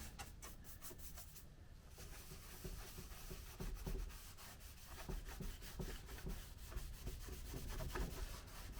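Steady, quiet rhythmic rubbing against a custom wooden car dashboard, a continuous scratchy swish with no voices.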